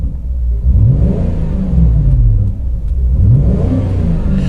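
A Volvo V8 fitted with a Becker aftermarket exhaust revs up twice, its deep, loud rumble rising and falling in pitch, close up with no talking.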